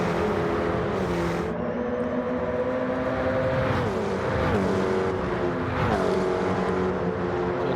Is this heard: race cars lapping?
yes